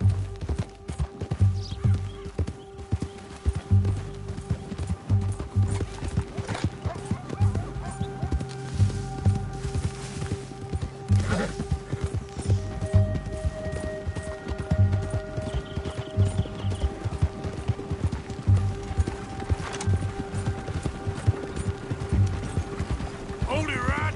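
Horse hooves from Red Dead Redemption 2 clatter in a steady clip-clop rhythm for the whole stretch, close and fairly loud, with game music tones and mechanical creaks underneath and a voice speaking briefly.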